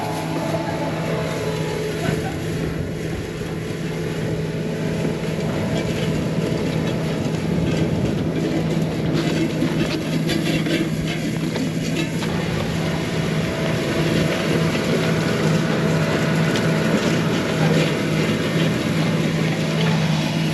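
Farm tractor pulling a plow across a field in Alabama in February, a steady loud engine drone with rattling and clanking throughout, close and continuous with no talk.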